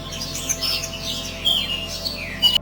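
A white parrot in a Hindi cartoon chirps in a quick run of bright, high tweets and whistles, clear and close, with a few louder squawky bursts.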